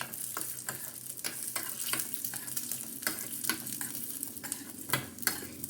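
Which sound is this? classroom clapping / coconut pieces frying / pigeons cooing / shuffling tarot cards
coconut pieces frying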